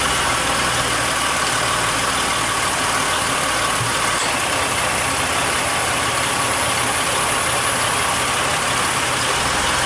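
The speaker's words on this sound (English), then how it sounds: "The compressor staying on a little bit longer each time" A steady mechanical hum and whir runs throughout from a Mercury Monterey idling with its air conditioning compressor running while being recharged, loud and continuous with no speech.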